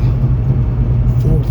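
A car cruising at about 35 mph with the engine turning near 2,000 RPM gives a loud, steady low rumble close by, with road noise blending in, heard on its own.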